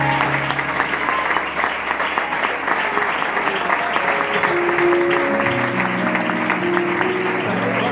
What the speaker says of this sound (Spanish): Le damos un aplauso, le damos al pastor.